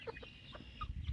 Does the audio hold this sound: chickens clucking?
yes